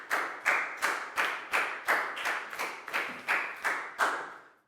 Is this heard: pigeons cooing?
no